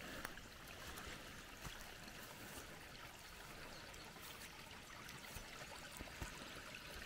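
Steady trickling and gurgling of water running through a permaculture swale channel toward a sluice, continuous and fairly close, with no voices.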